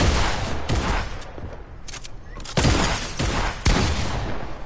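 A purple pump shotgun in Fortnite fires several loud, close blasts spaced a second or so apart, each a hard burst with a short rough tail.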